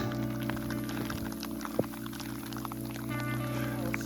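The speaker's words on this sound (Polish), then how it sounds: "Zaczęło padać." Heavy rain falls during a thunderstorm on a high mountain trek toward Kazbek in Georgia's Caucasus, a steady close wash of patter and drips with one sharp crack, under a constant low hum.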